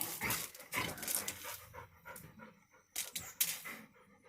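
Pet dogs pant in close, rapid bursts of breathy huffs, loud at first, easing into quieter gaps, then a few more sharp puffs toward the end, with no talking.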